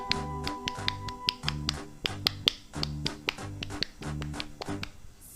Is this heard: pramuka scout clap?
yes